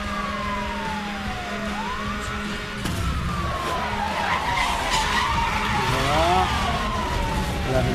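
A police siren wails in rising and falling sweeps while driving in Need for Speed: Hot Pursuit, joined by engine roar and tire skids, loud and close throughout.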